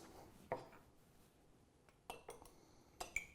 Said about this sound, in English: Then what we're going to do is add our ice